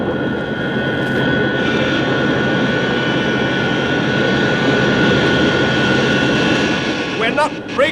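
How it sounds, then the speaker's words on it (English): Spacecraft retrojets on a science-fiction film soundtrack, firing to slow a moon lander on approach: a loud, steady roaring jet rush with a whining tone held throughout, tailing off near the end. "The jets are about to fire. Prepare for de-acceleration."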